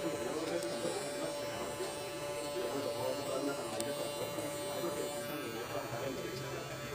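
Electric hair clippers fitted with a number 2 guard, working a mid fade on a buzzcut in a barbershop. They give a steady, quiet, continuous buzz that runs throughout with a faint hum.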